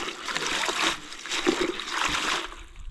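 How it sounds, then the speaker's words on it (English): Red Russian kale being washed, with its stems trimmed, in water that trickles and splashes steadily for a few seconds, fairly faint and close, with no talking. "Gonna wash it thoroughly here."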